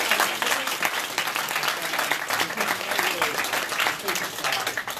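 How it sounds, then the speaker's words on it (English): Loud, dense audience applause fills the room without a break, a steady wash of many hands clapping close by with no voices over it. "Let's give Natalie another round of applause."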